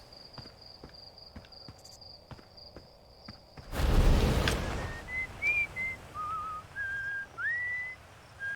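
A steady high whistle in Outer Wilds holds alone over soft, regular footsteps, then a burst of noise cuts in and a faint melodic whistled tune follows in short rising and falling phrases.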